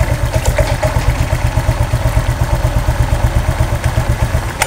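Honda Vario 125 scooter engine idling up close, a rapid steady pulsing putter with light mechanical clatter, running alone without talk.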